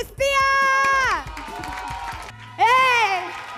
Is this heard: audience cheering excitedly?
yes